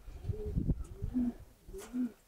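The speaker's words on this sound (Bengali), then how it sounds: "কবুতরগুলো প্রতিটা কবুতর সুন্দর শেপে আছে" Racing pigeons in a loft coo close by, with several soft, low, throaty coos in a loose rhythm, quiet and clear with no talk over them.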